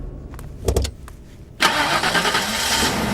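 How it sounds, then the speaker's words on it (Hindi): A car engine cranks over in a few short bursts, then catches and starts, settling into a loud, steady running rumble that fills the rest of the moment. "गाड़ी स्टार्ट कर।"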